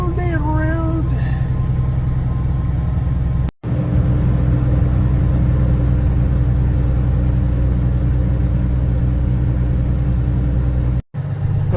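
A truck engine runs steadily while hauling soybeans during a farm harvest, loud and close with a constant mid-range drone, cut by two brief dropouts.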